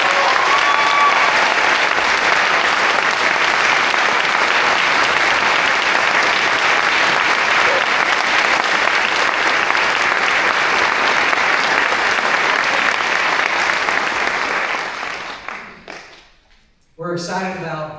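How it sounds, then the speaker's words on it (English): Loud, sustained applause from a large graduation crowd for social work graduates at a Florida State University ceremony, dense and even for most of the clip before fading out, with a voice starting to speak at the very end. "Everyone, please join me in one more round of applause for these amazing graduates"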